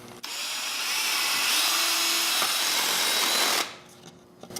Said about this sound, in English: Now you want to drill a hole where you mark those X's.